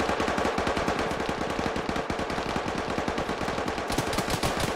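Sustained automatic gunfire in the military video game Arma, with rapid evenly spaced shots rattling on without pause for several seconds, loud and close, and no voices.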